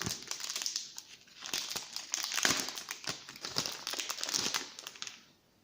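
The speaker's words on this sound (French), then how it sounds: "je vais commencer par ouvrir les petites cartes" Small cards for an Everdell board game expansion being unwrapped, a dense run of close crinkling and crackling plastic wrap lasting several seconds before stopping abruptly.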